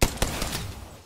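Gunfire in the video game Apex Legends during a competitive match, several sharp, loud shots in quick succession within about a second.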